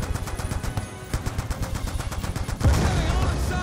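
Rapid bursts of gunfire crackle continuously in a Call of Duty: Black Ops 2 game soundscape, with heavier booming shots layered in near the end.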